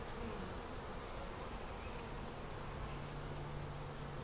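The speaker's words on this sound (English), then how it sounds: "Little bees bringing in pollen." Honey bees buzz in a dense, steady swarm around a hive where workers are bringing in pollen, a continuous close drone with no voices.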